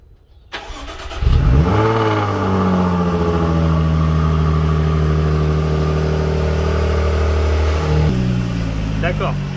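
A sports car engine cranks and catches, then holds a loud, steady high-revving idle with a rich droning tone before dropping back to a lower, calmer idle near the end.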